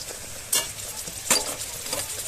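A paste of ginger, garlic and cumin fries with onions in a pan while a spoon stirs it, giving a steady close sizzle broken by two sharp scraping strokes.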